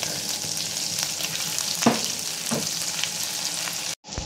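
Garlic sautéing in butter in a pan, a continuous bright sizzle with a couple of stirring scrapes, close and loud, cutting off abruptly near the end.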